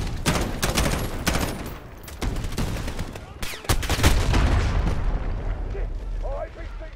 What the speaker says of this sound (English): I'm switching to the assault rifle